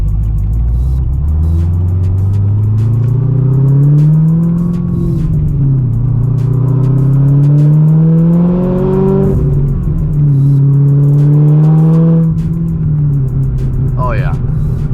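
A 900-horsepower E85-fueled Corvette ZR1 with a manual gearbox pulls hard through rising engine tones, easing off and climbing again through the gears, loud and close from inside the cabin, with people talking over it.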